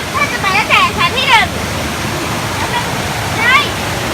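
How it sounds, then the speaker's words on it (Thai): Mae Huai Khamin waterfall in Thailand pours with a steady, loud rushing roar while people talk over it nearby. "ตอนนี้เราอยู่ที่น้ำตกแม่ห้วยขมิ้น"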